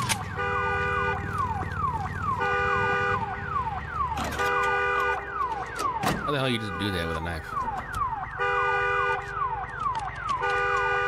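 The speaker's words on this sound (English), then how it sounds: "One car alarm." In Days Gone, a car alarm blares in a repeating cycle of electronic whoops and rapid chirping tones, loud and continuous, with a short burst of speech and other game noises midway.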